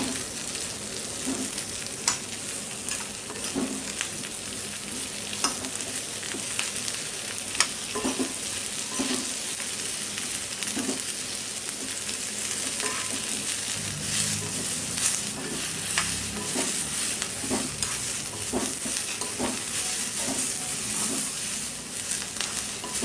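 Onions fry in a pan until transparent, a steady close sizzle with repeated stirring scrapes and clicks throughout.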